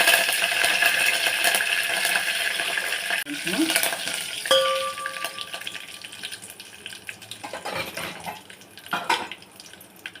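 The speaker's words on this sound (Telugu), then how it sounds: "మనం దంచి పెట్టుకున్న పౌడర్ అయితే దీంట్లో యాడ్ చేద్దాము. బాగా నూనెలో ఫ్రై చేసుకుందాం దీన్ని కూడా." Pounded spice powder for tomato rasam hits hot oil with dried red chillies and fries with a loud, continuous crackling sizzle, a few clinks of the utensil and stirring scrapes, fading slightly toward the end, no talk.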